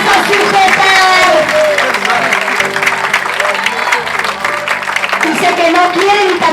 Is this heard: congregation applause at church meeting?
yes